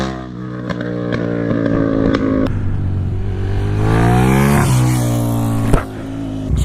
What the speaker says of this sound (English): I told him second gear power wheelie is where he's going to start